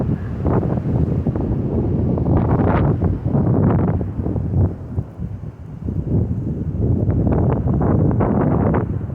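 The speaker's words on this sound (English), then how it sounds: "let me let this wind come through" Strong wind buffets an outdoor microphone under drifting clouds, a loud, continuous low rumble with gusty surges that swell and ease across the whole stretch, with no voice over it.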